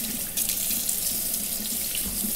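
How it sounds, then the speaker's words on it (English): Tap water runs over a freshly skinned squirrel in a sink at home, a steady close splashing stream with no talking. "So one last rinse to get rid of any remaining annoying hairs that might still be on the meat"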